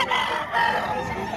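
A White Kelso gamefowl rooster crows at a live chicken market, a clear, fairly loud call over the background murmur of the market, with no talking.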